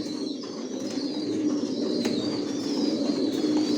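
Racing pigeons coo in a steady, low murmur, several birds close by with continuous overlapping calls and no pauses.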